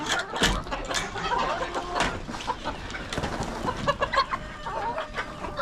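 Chickens and a rooster in a coop cluck close by in irregular bursts, with sharp calls and squawks rising over a busy, overlapping background of hens.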